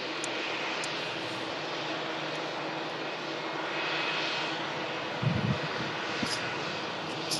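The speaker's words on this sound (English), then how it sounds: "Slow taxi from that Dreamliner" A Boeing 787 Dreamliner taxis slowly at an airport, its engines giving a steady, broad roar that swells slightly midway, with a brief low thump near the end.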